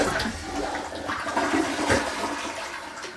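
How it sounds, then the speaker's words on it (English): A newly installed toilet flushes with a loud, steady rush of water that swirls and drains for several seconds, close by with no talking over it. "So I want to make sure wipe that first and flush the toilet."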